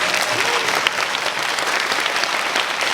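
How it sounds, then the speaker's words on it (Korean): A film festival Q&A audience applauds after discussion of the movie Hansan: Rising Dragon, a loud, dense wash of clapping that holds evenly throughout, close and unbroken, with no speech over it. "박수 한번 주시죠"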